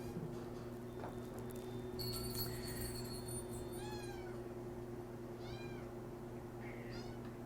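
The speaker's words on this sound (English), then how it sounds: "She's a very friendly kitty cat, and she's ready for her new home anytime." A cat meows several times, short rising calls spaced a few seconds apart, close by over a steady low electrical hum.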